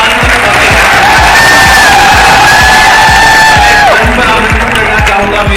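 Large crowd at a motivational seminar in Udaipur cheering and roaring loudly and continuously, with whoops and a rhythmic low pounding under a sustained wall of noise.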